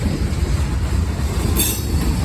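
Norfolk Southern mixed freight train rolling past close by, a loud steady rumble of railcars with rhythmic wheel clatter and a brief high wheel squeal.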